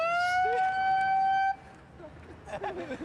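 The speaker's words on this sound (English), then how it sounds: "It has a terrible siren." A loud electronic vehicle siren holds a steady harmonic wail, then cuts off abruptly, leaving softer street noise and faint voices behind.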